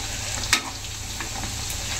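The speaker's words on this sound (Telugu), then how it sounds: "ఇట్లా ఎక్కువ ఫ్రై చేసుకోవాలి, ఎందుకంటే ఎక్కువ రోజులు ఉండడానికి" Chicken deep-frying in oil for Telangana-style chicken pickle makes a loud, continuous close-up sizzle, with one brief sharper crackle near the start.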